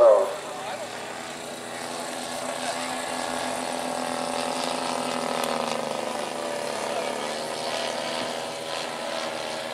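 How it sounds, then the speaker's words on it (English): A World War II Vought Corsair Navy fighter makes a low pass at an aviation rally, its propeller engine a steady, droning roar that holds loud throughout while an announcer speaks over it. "The Vought Corsair, coming down in the low pass right now, was the fastest and most deadly U.S. Navy fighter in the Pacific in World War II."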